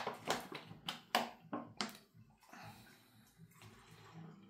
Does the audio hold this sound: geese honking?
no